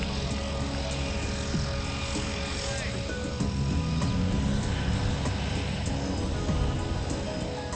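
An aircraft engine drones steadily inside a skydiving plane on jump run, a constant buzzing hum that swells slightly midway while people talk over it.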